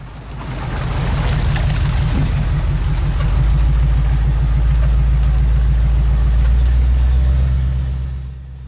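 A monster 4x4 mud truggy crawls through a mud hole, its engine rising to a loud, steady, close rumble that swells and then fades away at the end.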